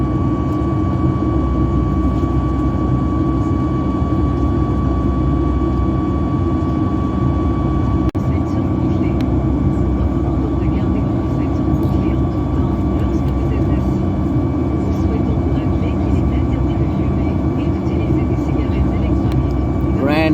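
Steady, loud cabin drone of an airliner in flight out of Phoenix, a constant low roar with a faint tonal whine, unbroken for the full stretch apart from one brief click partway through.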